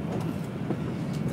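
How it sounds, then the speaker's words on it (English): Interior of a moving train bound for Osaka, a steady low rumble with faint rhythmic rattling, continuous and close, with no voices. "I'm inside the train now"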